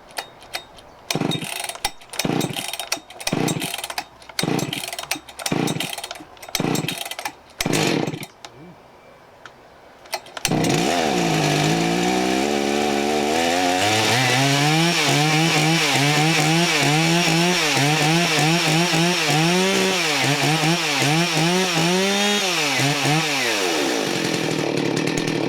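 A rebuilt chainsaw being pull-started: a series of rhythmic rope-pull rasps, then the engine catches and runs loudly and steadily, revving up and down in repeated surges, close by.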